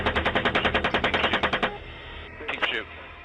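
Rapid machine gun fire plays from footage, a fast even burst of loud shots followed by a brief second burst after a short pause.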